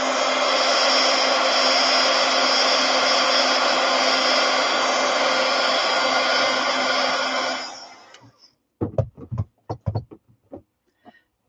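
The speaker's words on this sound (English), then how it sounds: "I'm going to use the heat gun." A heat gun drying a wet craft disc blows with a loud, steady roar for about eight seconds, then cuts off, followed by a few sharp knocks and taps.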